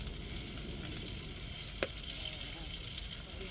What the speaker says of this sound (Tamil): இப்போ காயப்பொடி சேர்த்துக்கிடுவோம்.